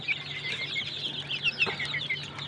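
Desi chickens in a coop at night make soft, rapid clucks and high peeping chirps, repeated steadily at close range over a quiet background.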